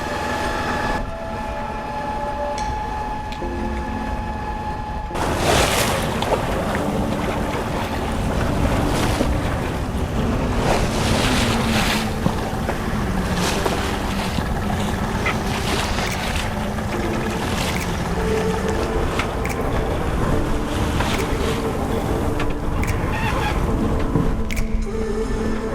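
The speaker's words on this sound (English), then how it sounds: "We're sailing now at 4 knots" A sailboat under way on the open ocean at about 4 knots between Magnetic Island and the Whitsundays, with steady wind buffeting the microphone and waves washing and slapping against the hull continuously throughout.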